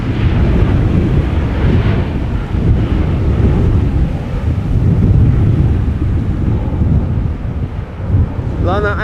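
Breezy post-storm wind at Amsterdam Schiphol Airport rumbles steadily into the microphone as a loud, continuous low roar, with buffeting gusts throughout.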